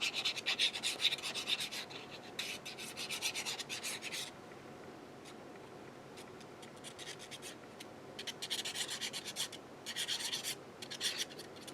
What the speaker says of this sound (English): Okay, burnish that in